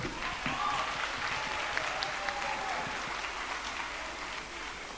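A steady wash of audience clapping at a fifth grade graduation ceremony, continuous and even for several seconds with faint voices underneath.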